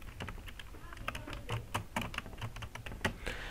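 Fingers tap quickly on a computer keyboard while text is entered into a design program. The clicks are irregular, close and quiet, with short bursts and a few louder key strikes.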